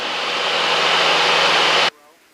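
A small single-engine training airplane's engine drones at about 2300 RPM, a loud steady broadband roar with a low hum that holds evenly, then cuts off abruptly near the end and leaves faint background noise.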